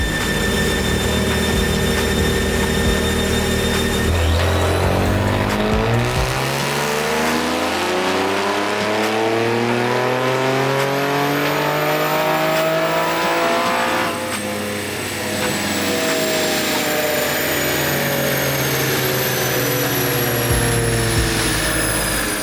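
A 2023 Nissan Z fitted with GESi downpipes drives hard, its engine loud and close, sweeping up and down through gears in rising and falling pitch runs with turbo whoosh and a continuous roar throughout.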